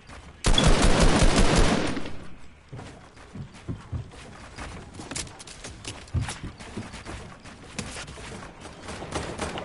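A loud burst of rapid gunfire in Fortnite for about two seconds, followed by scattered quieter shots, footsteps and game clatter.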